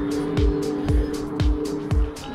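Vehicles on a busy country road near woodland sweep past one after another in a steady rhythm of whooshing passes, about one every half second, over a constant engine hum nearby.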